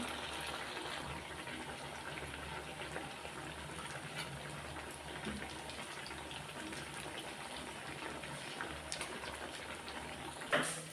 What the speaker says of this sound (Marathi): तर अशा प्रकारचा वडा आपण टाकून घेऊया तेलामध्ये